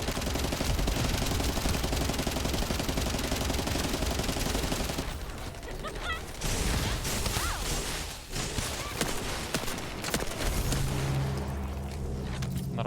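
A pink machine gun in the looter shooter The First Descendant fires in long continuous bursts, loud and dense, with a short lull and booming impacts amid battle noise.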